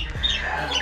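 A bird squawks once at close range in an aviary of well-conditioned breeding birds, a short harsh call over low background hum.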